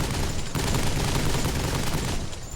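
Sustained enemy machine gun fire in the video game Death Stranding, a loud, dense and continuous barrage of rapid shots that holds steady for the whole stretch without pause.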